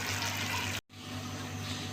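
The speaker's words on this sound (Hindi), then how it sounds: "अभी हमने अपना पानी शामिल कर दिया है इसके अंदर।" Water streams steadily into a cooking pot of beef kofta curry, a continuous close rushing pour that breaks off briefly for a moment and then resumes.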